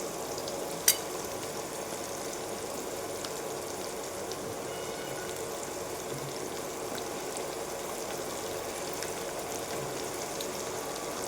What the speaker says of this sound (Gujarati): હવે આપણે ડુંગળીને સરસ રીતે સોટે કરી લઈશું